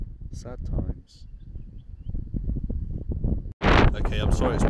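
Wind buffets a microphone along an ocean cliff path on a coastal walk from Bondi toward Watsons Bay, a steady low roar that surges loudly near the end, with a person talking over it.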